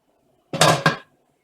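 A frying pan is set on a stovetop with a tablespoon of coconut oil, giving two brief, close metallic clatters in quick succession, then quiet.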